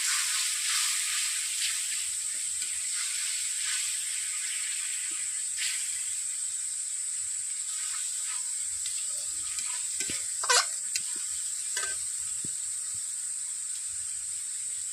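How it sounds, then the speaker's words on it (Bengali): Paneer masala spices sizzle and fry in a pan with a little water while being stirred, a steady soft hiss throughout with a few brief scraping knocks near the end. "এরকম করে নাড়তে হবে, মশলা কষতে থাকবো"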